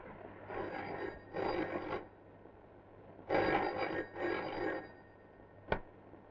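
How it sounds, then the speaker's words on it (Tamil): An old telephone bell rings indoors in a Tamil film scene, sounding in two pairs of double-ring bursts separated by a short gap, followed by a brief sharp click. "பழையபடியும் டெலிபோன் பில் அடிக்குது சார்."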